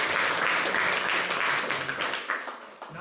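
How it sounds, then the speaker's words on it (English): Audience applause at a youth leadership program meeting, honoring the youth leader who ran the session: dense, steady clapping from a room of people that holds strong, then thins and tapers near the end. "Please give Youth Leader Saleha Shaheen a thunderous round of applause"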